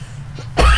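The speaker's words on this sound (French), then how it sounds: "tu me fais tousser de rire" A single sharp cough bursts out from one person mid-conversation, loud and close, after a short stretch of quiet room tone.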